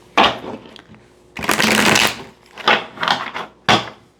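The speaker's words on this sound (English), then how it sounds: "Let me do a quick shuffle." A deck of tarot cards is shuffled by hand during a reading, producing close, crisp riffling bursts: a short flick, a longer loud riffle, then several quicker shuffles and a final snap.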